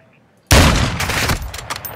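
Loud, close gunfire erupts abruptly in the military shooter Project Reality, a dense burst of rapid shots that rolls on as a roaring fusillade and then trails off.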